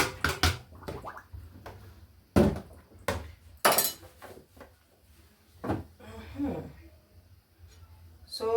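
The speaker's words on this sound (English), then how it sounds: "So these ones, you just chop them and make them ready to be used." Pumpkin leaves are chopped with a knife on a board, giving a series of sharp, separate knocks at irregular intervals, with soft talk and handling noise between them.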